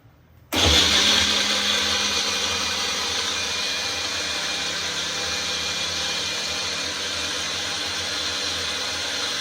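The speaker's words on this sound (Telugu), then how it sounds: "ఇప్పుడు దీన్ని మిక్సీ చేసేద్దాం" A mixer grinder blending an Oreo biscuit and chocolate sauce milkshake switches on abruptly and runs at a steady, loud, high-pitched whir for several seconds, with no talking.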